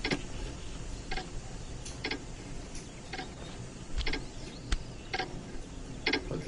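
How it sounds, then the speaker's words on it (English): A clock ticks in the Hello Neighbor game, with evenly spaced sharp ticks about once a second over a soft ambient hum, with no voices. "Clock."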